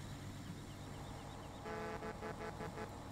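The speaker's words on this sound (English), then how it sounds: "Don't forget to honk the horn" A vehicle horn in Farming Simulator 17 gives a short series of quick toots over a steady engine drone, faint and distant-sounding.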